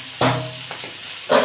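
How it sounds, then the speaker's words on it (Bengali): Onion and ginger frying in fish oil with five-spice in a village kitchen pan, giving a steady soft sizzle broken by a few brief stirring scrapes. "পেঁয়াজ, মাছের তেল আর আদাটা ভাজা ভাজা হয়ে গেছে।"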